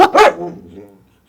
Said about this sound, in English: I hear the dogs so much